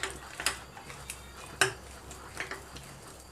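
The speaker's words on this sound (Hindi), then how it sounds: "अब हम ये सारी चीज़ों को मिक्स कर देंगे" A spoon mixes a dates and dry fruit mixture in a bowl, making irregular light clinks and scrapes against the bowl, with a few sharper taps standing out.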